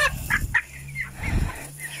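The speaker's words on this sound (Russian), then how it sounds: "вот такая курочка" Young chickens, red-feathered chicks being moved to new quarters, give soft clucks and short chirps in a few close bursts, with no talking.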